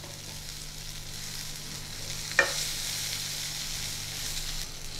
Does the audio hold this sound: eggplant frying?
yes